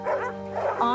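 Neglected, filthy dogs being rescued, giving two short whimpering barks and yips close by, with a steady hum beneath.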